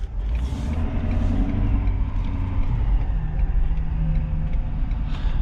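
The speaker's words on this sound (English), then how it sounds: "interesting drive on this diesel truck" A 2022 Ford F-250 STX FX4 with a 6.7L V8 diesel engine drives along, its heavy low engine rumble steady and close from inside the cab, with slight rising whine as it pulls.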